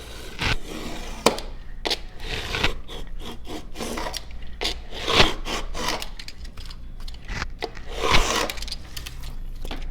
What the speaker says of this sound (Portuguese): Agora eu vou cortar a lateral.